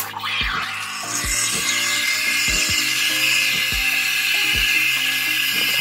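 A loud, steady hissing roar of a Breville Barista Max espresso machine steam wand, continuous throughout, with faint rhythmic low thumps underneath.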